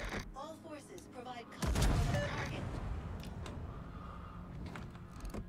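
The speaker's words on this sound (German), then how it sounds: "Ach, ich schieße mit HE." HE shells fired from the Bungo in World of Warships, a heavy booming salvo followed by a rumbling tail, with someone talking over the game sounds.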